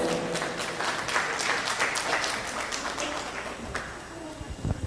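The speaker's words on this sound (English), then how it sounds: "Let's give her a warm round of applause." Audience applause at a culture-related launch and roundtable event in Manila, a dense, steady clapping from a room of people that thins out toward the end, with voices faintly underneath.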